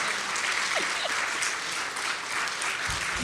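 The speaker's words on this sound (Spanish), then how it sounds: "un aplauso para este super panel" A conference audience applauds a discussion panel, a continuous even wash of clapping heard at moderate level with no speech over it.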